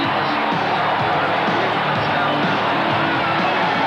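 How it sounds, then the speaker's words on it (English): A large stadium crowd at a 1987 Australian football exhibition match in Vancouver, Melbourne against Sydney Swans, roars in a steady, continuous wash of cheering and voices, loud and sustained throughout as the wave sweeps the ground, with no single voice standing out. "As we can hear the crowd with their European wave, it does look sensational here at the ground"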